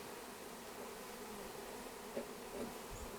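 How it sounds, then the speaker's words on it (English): Bees buzz faintly around a beehive being installed on a ranch, a low, steady insect hum with a couple of brief louder passes close to the microphone. "The goal is to not squish any bees."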